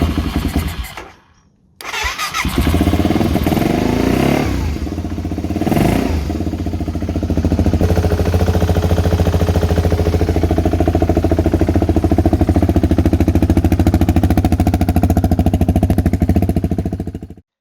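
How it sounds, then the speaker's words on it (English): A BMW 650 motorcycle engine, partly disassembled after recommissioning, cranks and catches after a brief pause, then settles into a loud, steady, close-up running idle with a rapid even thump and a slight rise in pitch partway through. "The bike is back together and well, not back together, I've still got it in pieces, but you know, it's running."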